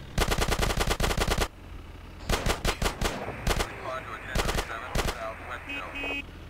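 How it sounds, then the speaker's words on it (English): Rapid bursts of automatic gunfire from a car in GTA San Andreas, fired sideways out of the windows at pursuing gang members. Close, loud volleys are separated by brief pauses, with engine and game noise underneath. "So the only thing you can do is side shoot out of the windows."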